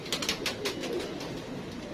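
Soft pigeon cooing with low murmuring calls, somewhat muffled against a steady background hum.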